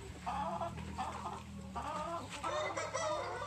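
Free-range laying hens cluck busily while pecking at hydroponic corn fodder, several birds close by with overlapping clucks and short calls in a steady farmyard chorus.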